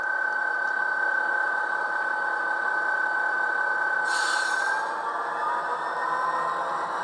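An Athearn Genesis BNSF FP45 model locomotive runs forward with a steady, close electronic diesel engine drone and a constant high whine, joined by a brief hissing burst partway through, with no talking.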